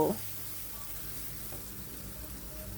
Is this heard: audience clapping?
no